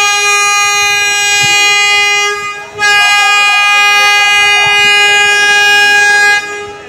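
A passenger launch (river ferry) horn blasts at Lalmohan launch ghat before departing for Dhaka, a loud steady horn tone held for several seconds, broken by one short gap and then resumed.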